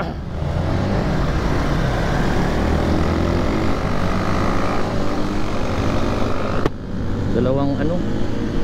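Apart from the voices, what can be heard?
Honda Raider motorcycles engines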